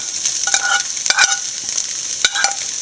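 Egg and grated coconut stirred in a pan over a very low flame, a soft steady sizzle broken by a few sharp scraping strokes of a spoon, close and with no talking.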